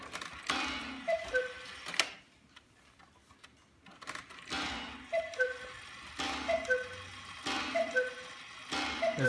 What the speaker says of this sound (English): We want to set the clock off so you can hear it in action.